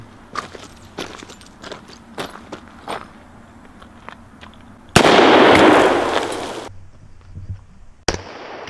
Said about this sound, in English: I'm gonna get up close and shoot this 2-liter, see how that looks.